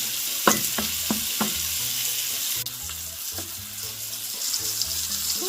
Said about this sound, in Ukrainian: додаємо подрібнені яблучка і ще смажимо хвилину-дві